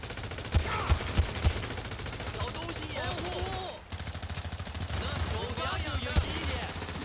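Gunfire in the video game GTA 5, sharp shots spaced irregularly over a dense background din with voices and game dialogue running throughout.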